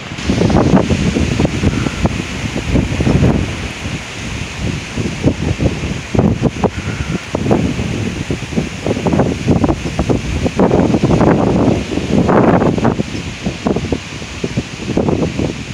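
Strong, non-thunderstorm wind gusts of 40-60 mph in Oklahoma buffet the microphone in irregular bursts, rising and falling over a constant background hiss, with no voices.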